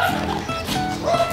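Dogs loose in a backyard in warm sunshine bark and yip in a short burst, fairly close, with some background noise.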